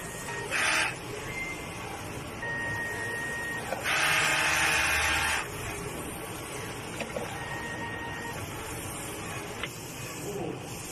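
A multi-head printer runs a print head clean cycle, giving faint mechanical whirring with short buzzing bursts, one longer louder pump-like surge midway, and brief tonal beeps against a quiet hum.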